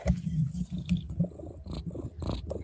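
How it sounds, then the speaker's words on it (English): A cat purrs close by in a steady, rhythmic low rumble with soft pulsing breaths, alongside a few faint clicks and rustles. "is there a freaking cat that I'm hearing purring?"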